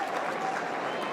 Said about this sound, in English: Warm applause from the crowd down in front of the interchange bench.